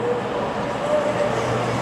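A CrossCountry passenger train pulling into Telford Central station, a loud steady rumble of wheels and engine close by, continuous with no talk.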